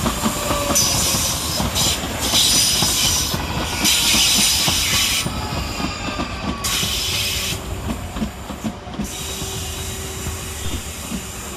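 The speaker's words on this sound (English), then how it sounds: "Next in with the 1904 South Western Railway service from London Waterloo to Weybridge is 458526 and 458516." South Western Railway Class 458 electric trains arrive at Clapham Junction with a steady rumble of wheels and clattering rail joints. Bursts of hiss come and go, and a faint squeal runs under the continuous, fairly loud passing noise, with no talk.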